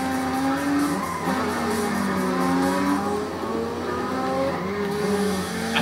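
A racing car engine in the video game Need for Speed ProStreet drones steadily throughout, with the pitch rising and falling through gear changes. It is loud and continuous, with faint tire noise and no talk.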